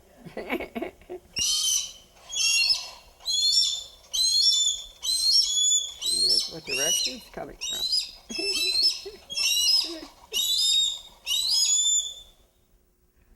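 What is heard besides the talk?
Harris hawk calling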